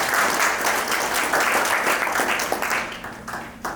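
Audience applause at a client care program with an antiques appraisal segment, a steady round of clapping from a room of people that gradually thins and fades toward the end.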